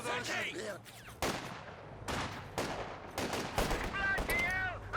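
Gunfire from an AEC armoured car in the Company of Heroes 2 strategy game: several sharp shots and short bursts with distant battle noise underneath, fairly quiet, while voices talk over the action.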